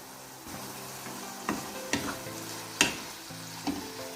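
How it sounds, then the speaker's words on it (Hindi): Minced meat fries in a pan with a soft steady sizzle as a spoon stirs it. Several clear scraping knocks against the pan come at irregular intervals. No one talks. "कीमे को अब हम 3 मिनट के लिए भून लेंगे"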